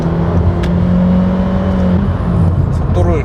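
A 10th-generation Honda Civic engine builds as the car accelerates, a steady, moderately loud hum with rising tonal whine, running continuously beneath a speaking voice.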